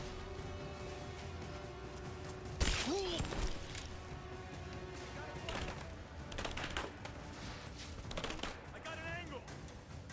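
Gunfire in Rise of the Tomb Raider: a loud shot followed by scattered bursts and impacts, with combat chatter and shouted voices running throughout.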